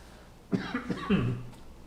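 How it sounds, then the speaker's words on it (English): A single close cough, a short rough burst of a few throaty pulses, loud against a quiet background. "Excuse me, I'm going to cough."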